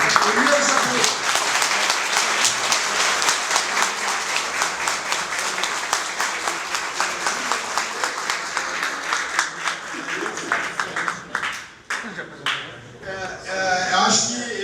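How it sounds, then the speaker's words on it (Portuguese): An audience at a talk by writer Elias Jabbour in a bank workers' union hall breaks into dense, sustained applause that stays steady for about ten seconds, then thins into scattered claps as voices rise. "uma salva de palmas aqui para o nosso convidado, Elias Jabbour"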